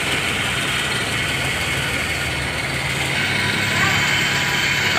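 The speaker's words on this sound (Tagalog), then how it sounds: "Medyo vibrate lang yung makina kasi bagong andar pa lang." Suzuki Multicab engine idling just after a cold start, a steady mid-pitched rumble with a faint rhythmic mechanical ticking, close and continuous with no talk.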